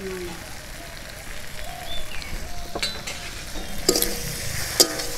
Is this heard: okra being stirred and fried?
yes